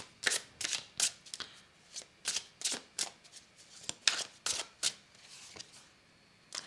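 Tarot cards are shuffled by hand in a series of crisp, rapid riffling bursts, close and fairly quiet, repeating steadily with brief gaps and no talk.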